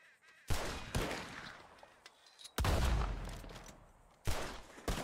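In Red Dead Redemption 2, guns fire at flying birds: three loud, well-spaced blasts, each followed by a booming rumble that fades before the next.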